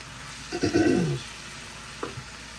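Seasoned mushrooms and Brussels sprouts being stirred in a hot skillet, giving a brief scraping, sizzling stir followed by quieter frying and a few light clinks, close and fairly soft.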